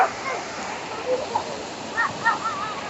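The Strabial river in Bulacan rushes steadily with a broad, continuous watery hiss close by, while people talk excitedly over it.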